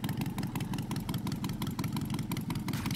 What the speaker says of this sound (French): Je suis dans ma moto.